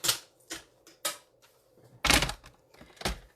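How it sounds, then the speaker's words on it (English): A paper trimmer slicing through cardstock, a handful of sharp close clacks and thunks at irregular intervals, with quiet gaps between them. "I'm going to pull out my trimmer"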